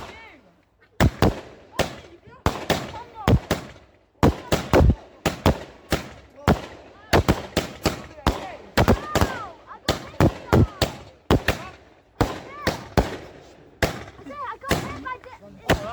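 Bonfire Night fireworks display: a rapid series of sharp, loud bangs and crackles, many bursts in quick succession with short gaps, close and echoing.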